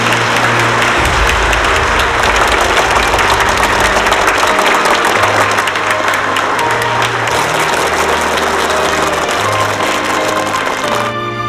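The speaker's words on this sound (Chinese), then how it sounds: "为他们鼓掌。" Sustained, loud audience applause fills the space continuously, a dense crowd clapping alongside a low musical tone that shifts pitch underneath.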